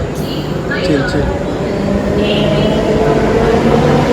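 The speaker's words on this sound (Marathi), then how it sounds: "बघा ट्रेन आलेली आहे" A train pulling into a busy Mumbai station near Matunga, a steady low rumble of wheels and carriages filling the scene with crowd noise mixed in.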